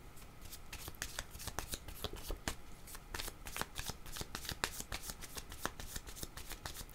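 Oracle cards shuffled by hand, heard up close as a continuous dense patter of crisp papery flicks and riffles, quiet and steady throughout, with no voice.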